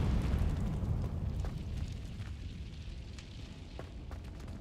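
An Incendio fire spell cast in a wizard video game bursts out as a loud, rumbling whoosh that dwindles into a steady roar, with no voices.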